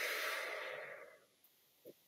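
A long, steady exhale during a guided breathing exercise, soft and close, fading out after about a second, followed by a couple of faint small breath sounds.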